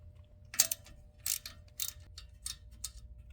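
A ratchet wrench loosening the 8 mm bolt on the ABS sensor of a 2011-2019 Ford Explorer during control arm work, giving a series of quick metallic clicks in a rhythmic run, close and fairly faint with no talking.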